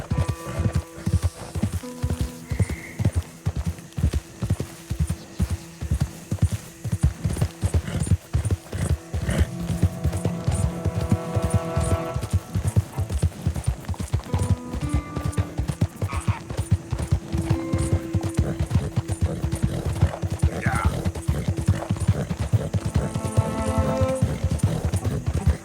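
A horse's hooves clip-clop in a steady walking rhythm in a video game, close and continuous for the whole stretch, with a neigh or two, faint game sounds and a little low talk underneath.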